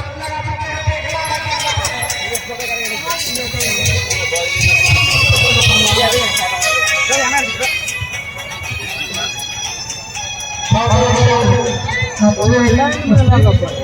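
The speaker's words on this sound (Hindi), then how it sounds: "देखियो पब्लिक के भीड़" A large crowd of spectators gathered around an outdoor kushti wrestling ground, a continuous loud hubbub of many voices with scattered shouts, swelling in the middle and again near the end, while someone speaks over it nearby.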